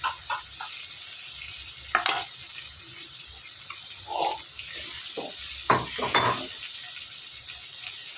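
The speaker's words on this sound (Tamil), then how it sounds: "வெந்தயம் கடுகு எல்லாம் போட்டு தாளிச்சிட்டு வெங்காயம் போட்டிருக்கோம்மா, பூண்டு போட்டிருக்கேன்." Onion and garlic frying in a pan after a tempering of mustard seeds and fenugreek for a chickpea curry, giving a steady, close sizzle with occasional stirring scrapes and clinks.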